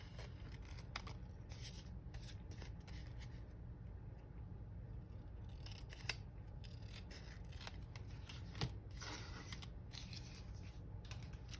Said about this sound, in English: I'm going to just trim that off.